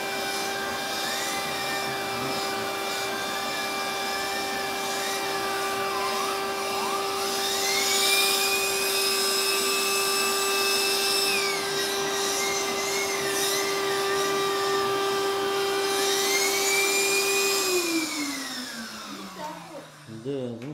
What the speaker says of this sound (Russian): И пылесос хороший.